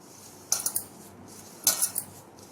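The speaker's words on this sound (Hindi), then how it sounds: "सारी चीज़ों को अच्छी तरह से मिक्स करेंगे" A spoon clinks and scrapes against a bowl while ingredients are mixed with semolina for crispy bran khurma, two short bursts of stirring separated by quiet.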